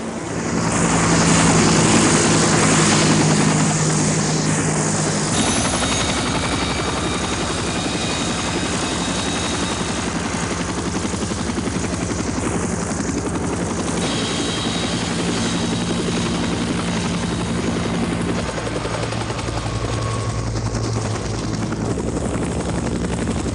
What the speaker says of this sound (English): So the second part was a helicopter track.